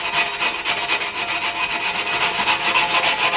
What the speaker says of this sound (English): I'm going to just clean the edge up real good.